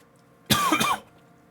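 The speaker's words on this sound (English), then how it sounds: "cough." A single short cough, close and fairly loud, with a brief throat-clearing quality, standing alone against a quiet background.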